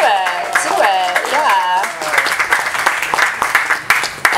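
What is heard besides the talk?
comedy audience applause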